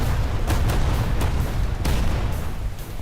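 War Thunder naval battle gunfire: a dense, continuous low rumble of ship cannons, punctuated by several sharp booms and explosions at irregular intervals, loud and without talk.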